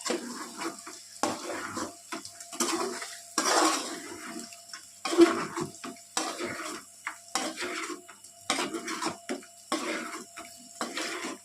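Chicken fry ingredients being stirred together in a metal pan, with repeated scraping and clattering strokes of a spoon in irregular bursts separated by short quiet gaps, close up, some wet, sloshing texture, and no talking.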